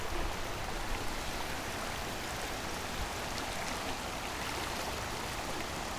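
A normally small creek, flooded after Tropical Storm Hanna in Virginia, churns with a constant, full rushing of water, close and evenly loud from start to finish, with no speech.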